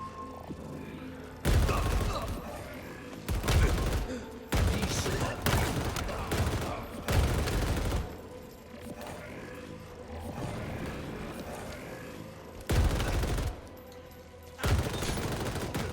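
Rapid bursts of machine gun fire from a Halo Infinite match, loud repeated volleys that start and stop through the stretch, mixed with other game effects and explosions.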